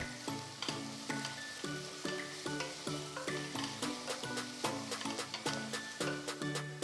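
Ginger garlic paste sizzles and fries steadily in a hot pan, with repeated clinks and scrapes of a spoon stirring in a regular rhythm.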